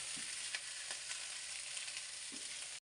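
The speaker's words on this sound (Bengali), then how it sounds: "চলো বেগুনগুলি একটু ভাইজে নি তেলে।" Eggplant pieces frying lightly in oil, with no turmeric or salt added, give off a steady, close sizzle that holds at an even level for about three seconds, with a few soft stirring taps over it, before cutting off abruptly.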